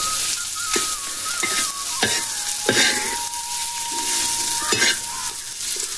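A potato and vegetable mixture with chillies fries loudly in a pan, a steady sizzle punctuated by repeated spatula scrapes and stirs, close up with no talk.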